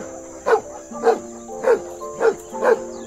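A dog barks five times in an even, spaced rhythm, each bark clear and close, over a faint steady high tone in the background.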